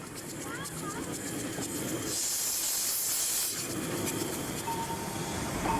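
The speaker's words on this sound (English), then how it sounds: "The train then climbs up to retrace its tracks over the River Teme, before dropping down back into Riverside." A train climbs a rising track over the River Teme at the 1990 National Garden Festival, with a continuous rumble and a loud hissing rush that swells midway, plus a brief high squealing tone near the end.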